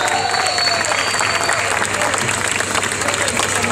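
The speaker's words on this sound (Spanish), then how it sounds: "Un aplauso grande para los vientos." A concert audience at a show in Quilmes, 2017, applauds the horn section with dense, steady clapping and faint cheering, with no talk on top.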